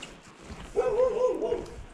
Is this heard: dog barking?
yes